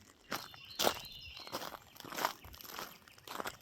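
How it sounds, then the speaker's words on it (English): Crunching steps on a gravel road, a few close, irregular footfalls scraping and grinding on loose stones, with no voices. "I always love the sound of gravel when I'm walking on it."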